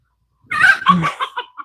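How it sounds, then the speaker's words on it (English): Agitated chickens cluck and squawk in a short, loud burst of rising and falling calls, several sharp notes in quick succession with no talk over them. "there's chickens having a fit behind me"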